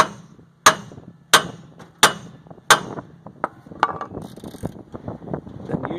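Hammer blows striking a ball joint on the axle of a 2011 Ram 3500 dually 4x4, four sharp loud metallic strikes at a steady pace followed by lighter clanks and rattling of tools and parts.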